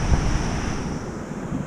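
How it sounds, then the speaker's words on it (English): Strong ocean waves break along Portugal's west coast in a steady, loud wash of surf, with wind buffeting the microphone and no voices. "Strong waves."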